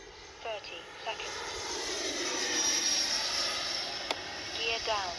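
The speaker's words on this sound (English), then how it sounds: "Love that afterburner." An FMS 80mm F-86 Sabre RC jet passes with its afterburner lit, making a sustained whooshing roar that swells and fades in the open air, while a voice talks faintly at intervals.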